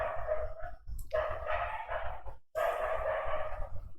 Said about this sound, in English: time for the dogs to start shouting.